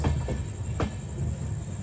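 Amrit Bharat Express train rolling on the rails between Thiruvananthapuram North and Charlapalli, a steady low rumble with a couple of sharp wheel clanks over the track, close and continuous.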